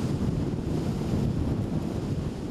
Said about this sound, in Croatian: Dolaskom na rijeku Savu motornim čamcem obilazimo nekoliko kilometara obale.